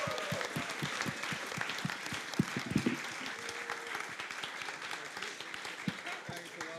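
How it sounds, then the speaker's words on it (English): Crowd applause closing a crypto conference panel, a moderate patter of clapping with some sharper individual claps, mixed with cheering and talk from the room. "Let's give everybody a round of applause."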